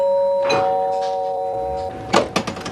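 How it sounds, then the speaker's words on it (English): A doorbell rings indoors with a clear, sustained electronic chime that fades out, followed by muffled knocks and movement near a door. "The doorbell rang"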